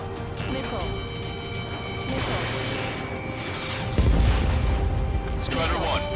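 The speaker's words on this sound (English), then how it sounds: "An explosion inside!" Explosion in the air-combat video game Ace Combat 7, a low heavy boom that breaks over a steady din of aircraft engines, gunfire and radio chatter, with whistling tones and voices talking throughout.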